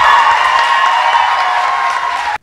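Lawmakers in a legislative chamber clap and whoop together, a dense, steady wash of applause and cheering that holds at full strength for a couple of seconds before cutting off abruptly.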